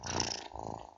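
A cosy house cat purrs close and loud in a brief, rumbling burst inside a British Gas boiler radio advert.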